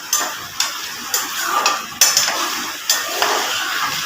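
Potatoes are stirred and fried for dhaba-style aloo bhujia with tomatoes. Clanking spoon-on-pan strikes come at irregular intervals over a soft sizzle, loud and close.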